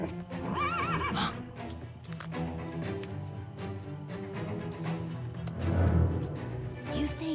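Frightened horses neigh and whinny several times close by, their hooves clip-clopping underneath in an agitated, uneven rhythm, with no talk.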